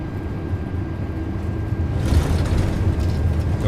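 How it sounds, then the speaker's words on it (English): An iniBuilds A330-300 with GE engines deploys its thrust reversers after landing in Microsoft Flight Simulator 2024, a steady low roar that swells into a louder, broader rush partway through. "Reversers are out. Decelerating."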